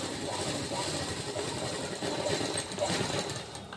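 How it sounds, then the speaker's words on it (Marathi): A sewing machine runs steadily, stitching quarter-inch tucks on the front of a prince-cut blouse, a continuous close mechanical whir that swells slightly midway with no pause. "पाव इंचावर टक्स टाकून त्याला शिलाई करून घ्यायची आहे"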